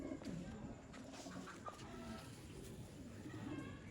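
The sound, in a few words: Sialkoti pigeons cooing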